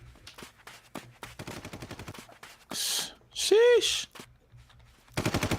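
SMG gunfire in a video game: rapid bursts of automatic shots crackle in quick rhythmic strings, with a louder burst and a whooshing effect midway, while players talk and exclaim over the shooting.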